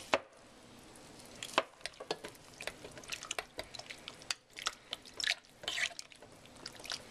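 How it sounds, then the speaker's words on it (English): Milk and eggs being whisked together in a bowl, a busy run of quick clinks, taps and wet sloshing strokes at close range with no voices. "You need to go ahead and mix it all together"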